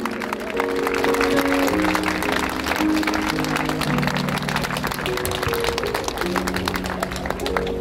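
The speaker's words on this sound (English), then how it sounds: "Can everybody clap your hands real loud?" A crowd at a peace rally in Croydon claps hands loudly and steadily, a dense wash of clapping layered over sustained musical tones throughout.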